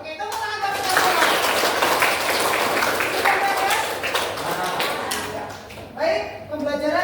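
Schoolchildren in a classroom clap their hands for their classmates, a dense, steady burst of applause under overlapping voices that dips briefly and then picks up again near the end.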